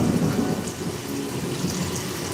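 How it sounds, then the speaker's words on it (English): Low, rolling thunder rumbling continuously under steady rain during Hurricane Beryl, loud and close without any voices. "it's thunder"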